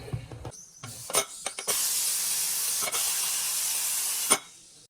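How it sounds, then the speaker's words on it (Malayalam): A pressure cooker whistle cooking biryani: a loud, steady hiss of escaping steam holds for about three seconds after a few short clanks and puffs, then cuts off sharply. "ഈ കുക്കർ അടച്ചു വെച്ചുകൊണ്ട് ഒരൊറ്റ പിസിലാണ് ഇനി വേണ്ടത്"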